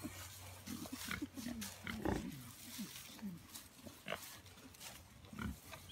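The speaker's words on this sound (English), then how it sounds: "And you said these are purebred Tamworths." Purebred Tamworth pigs, heritage breed hogs on a farm, grunt and snort in short irregular bursts at close range, with people talking intermittently over the animals.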